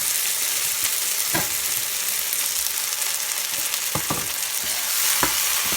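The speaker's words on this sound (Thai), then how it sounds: "ใส่เคชับลงไปตอนนี้เลยนะคะเพราะว่าเราอยากให้เคชับเขาไปโดนความร้อนนะคะ" Ketchup fries in a hot pan for a spaghetti hotdog dish, giving a continuous loud sizzle with a few sharp spatula knocks as it is stirred and no speech.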